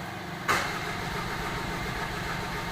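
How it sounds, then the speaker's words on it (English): Mitsubishi Pajero diesel engine ticking over at idle in a garage after a no-start repair, a steady low rumble with a brief louder burst near the start, then an even, continuous drone. "I'm just going to let this kind of tick over"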